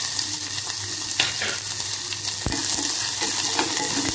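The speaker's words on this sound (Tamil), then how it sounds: "இப்போ அதே கடையில் இந்த கொஞ்சம் ஆயில் ஊற்றி வெங்காயத்தை வதக்கிக்கலாம்" Cut onion sautéing in oil in a kadai, a constant close sizzle with occasional stirring scrapes and one sharp knock.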